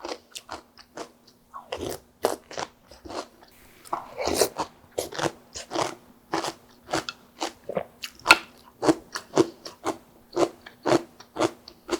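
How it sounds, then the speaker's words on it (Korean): Crisp cucumber pickled in hot salt brine is bitten and chewed up close, giving a steady series of loud, sharp crunches with no talking. "오이도 뜨거운 소금물에 절였기 때문에 굉장히 아삭아삭하면서 맛있습니다"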